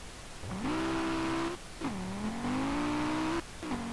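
Car engine in Street Legal Racing Redline, a light 900 kg car with little horsepower, revving up smoothly in two long sustained pulls with a short drop between, loud and close, with no talk.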